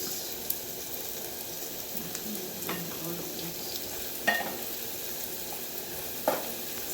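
Meat with spices and ginger fries in a pot for pilau, a steady close sizzle with occasional scraping stirs and light clinks, no talking.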